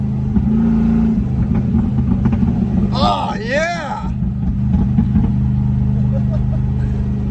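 A 1989 Range Rover Classic with a 3.9 engine and reworked exhaust revs hard to 4000 RPM, a loud, close, sustained drone; someone cheers once over it.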